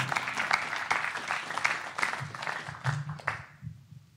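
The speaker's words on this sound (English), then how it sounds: "Please, a big round of applause, Professor Dominic Rowe." Live podcast show audience applauding a guest at a stair-climb fundraiser event, moderate clapping that thins out and fades near the end.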